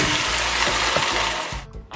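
Vegetables for a Trini-style provision soup tipped into a pot and sautéing, a loud dense sizzling hiss that cuts off abruptly near the end, leaving brief softer rustles.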